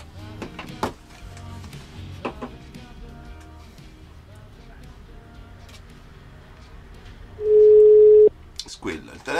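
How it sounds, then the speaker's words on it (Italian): A single steady telephone ringing tone sounds for about a second on a call, clear and close, following a stretch of quiet background noises and chatter. "Squilla, il telefono squilla"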